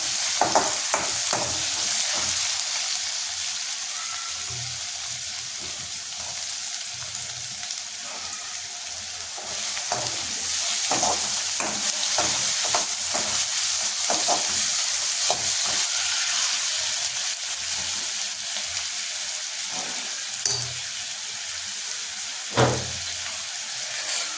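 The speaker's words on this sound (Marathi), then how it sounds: "स्वच्छ धुतलेले बोंबील हे त्यात टाकायचे आणि तेलामध्ये छान त्याची परतवायची" Bombay duck fish frying in hot oil with asafoetida, a steady loud sizzle with scraping stirring strokes throughout and a sharper clatter near the end, no voices.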